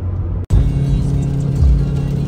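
Turbocharged car accelerating hard with a deep continuous engine rumble heard from inside the cabin, broken by a brief dropout near the start, then steady loud drone with surging intensity.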